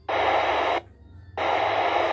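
An Icom handheld radio powered at 9 volts gives two loud bursts of hissing squelch static with no signal, each lasting under a second, separated by a brief quiet gap with a faint hum.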